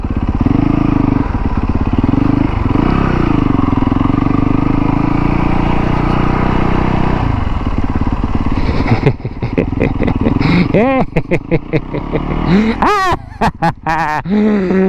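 Supermoto motorcycle ridden in a GTA video game, its engine droning steadily and loudly for several seconds, then revving and whining in sharp rising bursts with clatter near the end.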